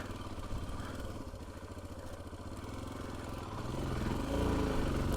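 A Royal Enfield Himalayan 411 single-cylinder motorcycle thuds along in second gear, its steady mid-pitched pulse swelling slightly toward the end, heard from on the bike with no talk.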